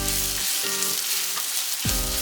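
Finely chopped onion and garlic frying hard in a pan, a loud continuous sizzle with a few stirring breaks and scrapes, close up and without any talking.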